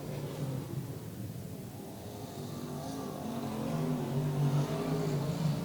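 V8 dirt modified race cars run down the main straight during a state title A main, a distant, steady engine roar that swells slightly louder toward the end.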